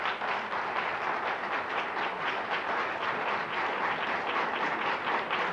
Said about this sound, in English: we'd like to hold off the applause until the end